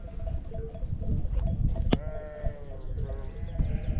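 A sheep bleats loudly nearby in the Bolu highland pastures, a long wavering cry, over a steady rumble of wind and outdoor noise, with a sharp click just before.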